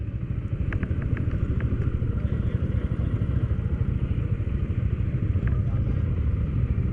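A Yamaha PG-1 motorcycle idles and rumbles at a river crossing, a steady close engine drone with a few light clatters near the start and no talking over it.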